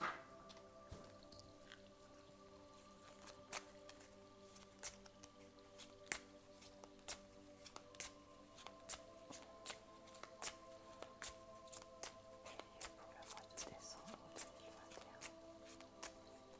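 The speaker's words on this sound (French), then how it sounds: "On va placer toutes nos cartes." Tarot cards are laid out and handled at close range, giving soft repeated taps, slides and card flicks in an irregular rhythm over a quiet background hum.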